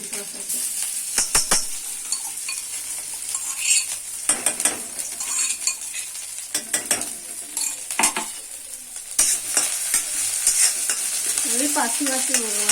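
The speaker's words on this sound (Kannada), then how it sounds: "ಶುಂಠಿ ಬೆಳ್ಳುಳ್ಳಿ ಪೇಸ್ಟ್ ಮಾಡ್ಕೊಂಡಿದ್ದೀನಿ ಅದನ್ನ ಹಾಕೊಂತೀನಿ" Ginger garlic paste frying in a pan for idli manchurian, a loud bright sizzle with repeated scraping stirs and metal clinks of a spoon against the pan, with no voices.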